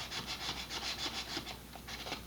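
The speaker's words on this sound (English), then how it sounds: "getting rid of the burrs and smoothing this out on the flat pieces isn't bad" Steady back-and-forth filing strokes smooth burrs off flat parts of an Estes BOSS model rocket, close and fairly quiet, with a short pause before the rhythm resumes.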